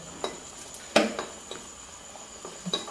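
A spoon stirs chilli powder into a mackerel fish curry made with ground coconut and kudampuli, giving a few sparse metallic clinks and scrapes against a pot, one louder knock among quieter taps, with no voices.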